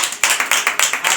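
A congregation at a Christian sermon gives a few brief bursts of loud, rhythmic hand clapping, sharp and close, with no talk over it.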